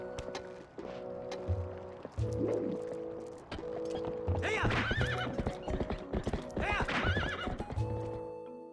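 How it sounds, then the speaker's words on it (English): Epona, the horse in Zelda: Twilight Princess, gallops with steady clip-clop hoofbeats and lets out several loud whinnies over game music, filling the stretch without talk. "Alright, horse. Epona, come on, let's go."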